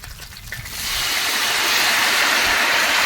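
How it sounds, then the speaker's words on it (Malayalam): Coconut oil poured into a pan for tempering mustard seeds, a steady rushing hiss that swells after a quiet start and holds loud and continuous, close by. "ഇപ്പോൾ കടു വറക്കാനുള്ള വെളിച്ചെണ്ണയാണ് ഒഴിക്കുന്നത്"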